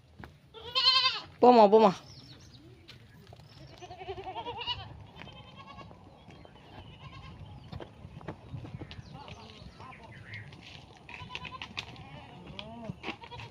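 Goats at a Tamil household grazing area, including two adults and two kids, bleat loudly a couple of times near the start, followed by quieter rustling and faint voices in the background.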